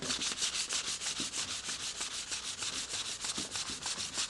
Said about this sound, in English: I'll go to some fine sandpaper and clean up what I've done